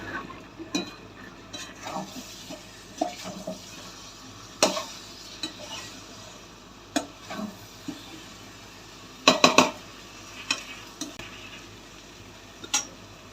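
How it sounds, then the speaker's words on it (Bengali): Over a kilogram of potatoes for aloo dum gets stirred in a pan, with a spoon scraping and clinking against the metal in irregular taps and scrapes under a faint low sizzle. "ভালো করে নেড়ে দিই এবারে।"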